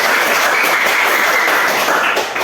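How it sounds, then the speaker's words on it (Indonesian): A classroom of students claps for a classmate named Baptista, a steady, dense wash of applause that holds evenly throughout without a break. "kita tepuk tangan kepada Baptista"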